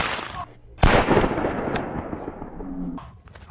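A single loud gunshot cracks out nearby, followed by a long echoing decay that fades over a couple of seconds, with low background sounds before and after.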